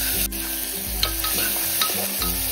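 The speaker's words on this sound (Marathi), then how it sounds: "छान असा ना कांदा टोमॅटो आपण तेलावरती परतून घेऊयात।" Chopped onion and tomato sizzle and fry in hot oil for masoor dal, with a spoon stirring and scraping the pan now and then, steady close crackle throughout.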